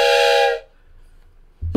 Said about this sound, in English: A train whistle for everybody.